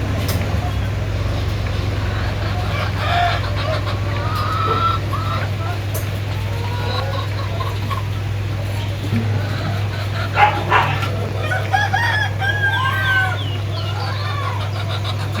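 Farm chickens clucking and a rooster crowing over a steady low hum, with scattered calls near and far and a dog barking now and then; voices talk faintly in the background.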